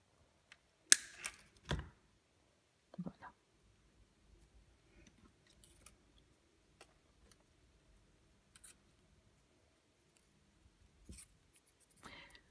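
Scissors snip off the excess thread on a left-handed crochet lily-of-the-valley piece: a few quiet, sharp cuts close by, with near silence and faint small handling noises between them.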